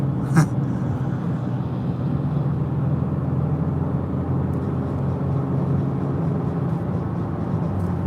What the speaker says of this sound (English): Now there's this big old parade of traffic